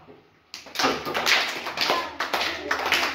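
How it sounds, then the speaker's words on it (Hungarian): Children clapping their hands in a school counting game, a burst of several claps and taps in quick, uneven succession, close and fairly loud after a brief quiet start. "Mennyit kellett tapsolni?"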